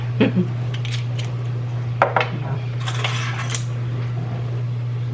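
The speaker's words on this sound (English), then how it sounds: "Let me mix that up a little bit." Ingredients for slow cooker Nashville hot chicken being mixed by hand, with clinking metal utensil taps and scrapes against a dish at irregular intervals over a steady low hum.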